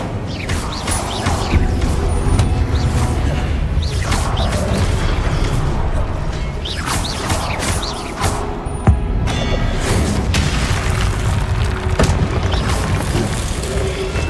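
Incendio fire spells cast in Hogwarts Legacy combat produce repeated booms and whooshing bursts over a dense, continuous rumble of battle effects, loud throughout with occasional sharp thuds.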